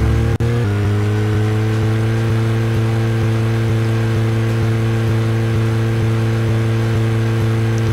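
A car engine drones steadily in a driving sequence of the video game Deadly Premonition, a low, sustained hum with a soft rhythmic pulse, loud and continuous after a brief sharp click at the start.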